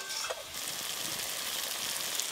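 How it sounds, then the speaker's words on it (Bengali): Spice paste sizzles and fries in hot oil in a pan while being cooked down for a Bengali fish curry, a steady close hiss with faint stirring scrapes. "এবার মশলা থেকে যতক্ষণ না তেল ছেড়ে যায় ততক্ষণ ধরে কিন্তু কষে নেব।"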